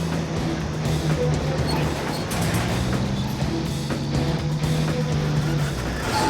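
A big outback road-train truck bogged in a mud hole, its engine revving hard and steadily with a strained, droning roar that holds without a break.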